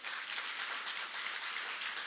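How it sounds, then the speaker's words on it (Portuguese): A church congregation claps during a sermon, giving a short burst of soft, distant applause with an even, continuous texture. "Aplaudo o nome do Senhor."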